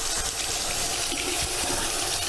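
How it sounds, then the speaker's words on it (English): A piece of plastic is rinsed under a running tap, a loud steady gush of flowing water splashing continuously with no speech. "what I'm going to do is just rinse this off with plenty of flowing water."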